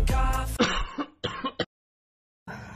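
A loud throat-clearing followed by a few rough coughs up close, then a pause and another brief noise.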